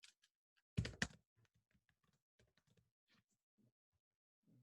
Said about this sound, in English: typing out the rest of the questions or rest of the responses for question 1